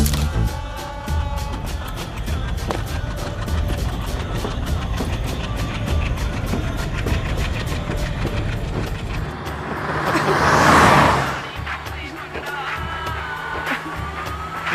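A car engine runs loudly and steadily for several seconds, swells into a brief rushing surge as the vehicle pulls away, then fades into quieter background noise.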